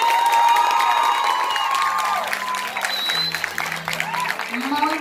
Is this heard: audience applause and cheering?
yes